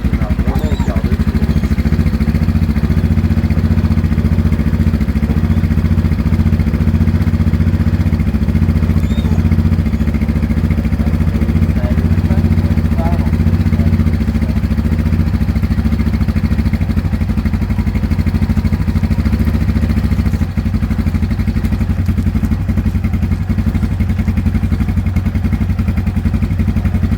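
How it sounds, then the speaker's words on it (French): A Yamaha Bruin ATV engine runs steadily at idle with a low, continuous rumble up close, with light clatter and people talking over it throughout. "Ah, là, je démarre vraiment au quart de tour."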